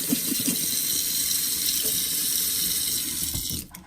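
A part of a Bissell Crosswave floor cleaner is rinsed under a running tap, a loud steady rush of water splashing into a sink, close and continuous, cutting off abruptly at the end.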